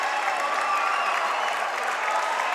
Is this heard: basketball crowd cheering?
yes